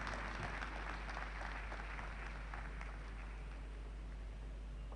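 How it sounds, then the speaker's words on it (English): Audience applause at the opening of a Nigerian Society of Biochemistry and Molecular Biology scientific conference, honouring the Vice Chancellor: steady, dense clapping from a seated hall crowd that keeps an even level, with a low constant hum underneath. "Let's sustain the applause for our Vice Chancellor"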